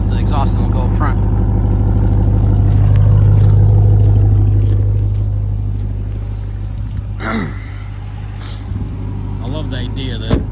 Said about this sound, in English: Okay, I'll let you listen to the exhaust